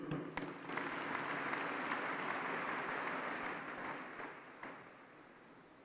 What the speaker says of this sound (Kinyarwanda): Abangira ngo rwose twongere twihe amashyi.